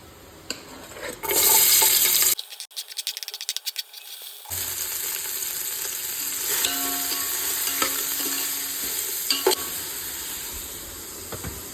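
Chopped green chilies and onion hit hot oil for prawn biryani, setting off a loud burst of sizzling. A short silent gap follows, then steady frying with scattered clinks of stirring.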